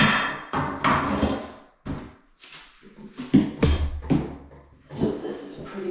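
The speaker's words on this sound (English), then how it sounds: "Now we're moving on to this side, just removing the floorboard, getting it removed." Bathroom floorboards being pried up and removed during a renovation: a run of close, irregular wooden knocks, thumps and creaks with short pauses between bursts.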